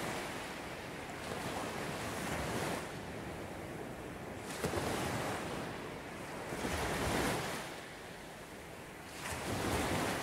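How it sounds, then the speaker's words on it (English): Ocean waves roll onto a beach in slow, repeated surges, each swell rising and washing away over a steady windy hiss, with no voices present. "The waves roll in,"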